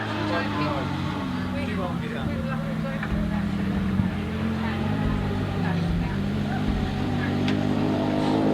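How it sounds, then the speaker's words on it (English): A big V-twin and a Yamaha four-cylinder grasstrack racing motorcycle run together at a race meeting, a continuous loud engine drone with shifting revs, while a commentator talks over the top. "A big V-twin leading the Yamaha 4-cylinder at the moment."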